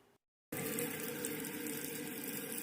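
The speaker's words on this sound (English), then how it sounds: "I just switched the head on my faucet to shower, and that's how we clean pickles off." Water runs steadily from a faucet's shower-spray head into a kitchen sink, rinsing sliced pickles for bread and butter pickles; a brief pause, then a continuous close hiss of spray without talk.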